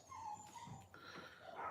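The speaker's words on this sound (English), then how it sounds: "Dogs are barking." Dogs whimpering and yipping indoors, with short whiny yelps and soft high cries over a low murmur of room noise; not clear full barks.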